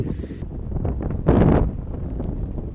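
Strong wind on Cerro Chaltén in Patagonia during a winter climb roars and buffets the microphone in a steady low rumble, gusting louder for a moment midway.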